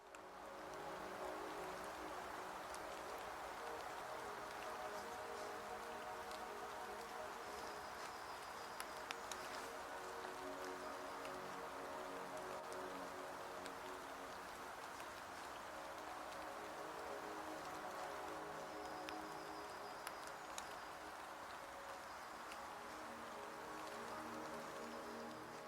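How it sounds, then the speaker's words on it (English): Steady rain falls on a foggy Danish forest and patters on an umbrella overhead, a constant dense hiss lasting the whole stretch, with occasional faint birdsong in the distance. "I have put an umbrella on because it's raining"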